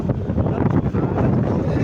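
Loud, steady wind from a storm in Ahmedabad buffeting the microphone while riding a vehicle, a rough continuous roar with gusty swells throughout.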